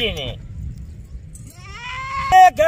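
Goats at a livestock market bleat in two clear calls, one at the start and a longer wavering one after a pause, close and fairly loud, with a brief sharp noise near the end.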